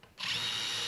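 A drill fitted with a pointed starter bit whirs up suddenly and bores a pilot hole in wood, a brief, close, steady burst.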